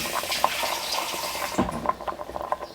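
More water is poured into a pot of melting beeswax and pine resin for candle and wax-wrap making, a steady close splashing gush that eases off partway through, with no talking.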